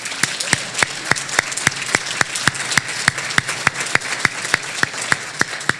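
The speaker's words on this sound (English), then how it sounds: "let's give a good round of applause to John Quigley." Audience at an awards gala for a chamber of commerce gives a steady round of applause, with crisp, evenly spaced claps ringing out over a low crowd murmur throughout.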